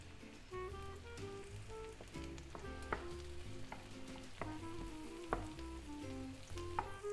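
Garlic fries in a pan with softened onions, making a quiet, even sizzle and crackle with a few soft stirring taps. Faint background music runs underneath.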